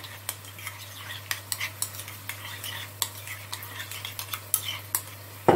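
Spoon stirring ketchup and mayonnaise together into a hamburger sauce, a close series of light scraping clicks and taps against the bowl, steady and moderately loud with no talking.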